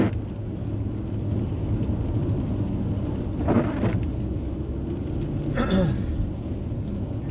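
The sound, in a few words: rain falling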